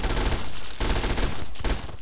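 Rapid automatic fire from a .32 caliber submachine gun in Fallout 3, loud sustained bursts of close gunfire with a brief break partway through.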